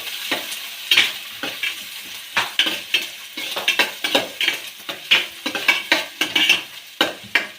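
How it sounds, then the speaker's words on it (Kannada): Green chilies frying in a pan, close busy sizzling with repeated metal spatula scrapes and clatter against the pan in an irregular rhythm, no talk. "5 ನಿಮಿಷ ಹೀಗೆ ಫ್ರೈ ಮಾಡ್ಕೋಬೇಕು"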